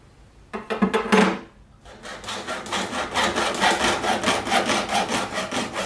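A nylon fuel return tube for a polyethylene EFI fuel tank is cut with a tool, heard as short close scraping bursts, a pause, then a steady series of rhythmic rasping strokes.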